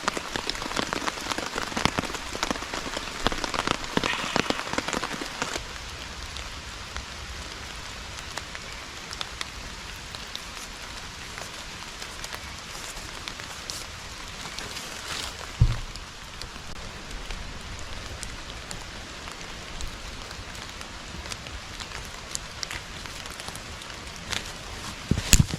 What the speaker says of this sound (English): And then it started raining on me again.